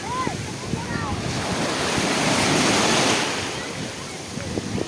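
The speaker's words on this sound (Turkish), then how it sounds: "Dalgalar çok hızlandı ve çok büyüdü." Big, fast sea waves surging under dark clouds, a steady rushing roar that swells and subsides, mixed with wind buffeting the microphone and faint voices.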